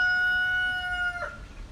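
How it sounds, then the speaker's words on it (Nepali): A rooster gives a single long, clear crow, fairly close, that fades into quiet background noise with no voices. "कुखुरा कराएर,"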